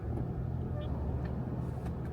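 Steady low engine rumble and road drone fill the cabin from inside a car at night, a continuous close hum with no talking.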